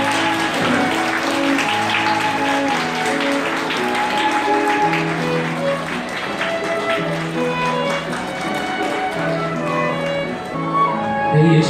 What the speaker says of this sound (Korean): 양가 어머님 입장! 뜨거운 박수가 필요할 것 같습니다.